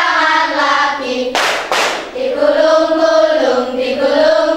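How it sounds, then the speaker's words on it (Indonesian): Two quick hand claps land in the middle of a children's song, while a voice keeps singing before and after them. "Buka tutup, buka tutup, bertepuk tangan."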